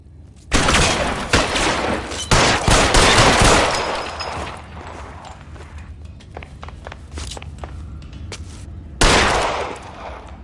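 Gunfire in the crime game L.A. Noire: loud bursts and rapid shots crackle in clusters through the first few seconds, thin to scattered single reports, then a final heavy volley erupts near the end.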